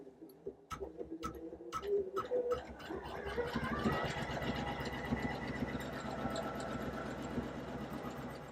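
A Poolin EOC06 embroidery machine starting up with a few clicks, then stitching in a fast, steady mechanical rhythm with a continuous motor hum, close by and with no talking.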